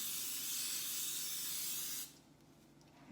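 Cooking spray hissing steadily onto flour-coated, buttered chicken wings for about two seconds, close and loud, then cutting off to near quiet.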